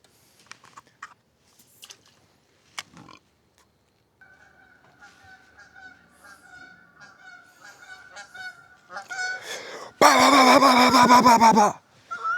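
Geese honk in a loud, dense burst near the end, heard from a boat during a crappie fishing trip, after quieter scattered calls and a steady tone earlier.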